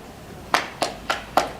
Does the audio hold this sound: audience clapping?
yes